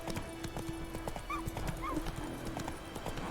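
The horse Roach gallops in The Witcher 3, with steady clip-clop hoofbeats and a couple of brief whinnies over a busy in-game ambience.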